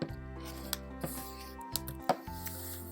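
Scissors cutting through a boondoggle lacing piece, several short snips and rubbing crinkles at close range over a steady background hum, no talk.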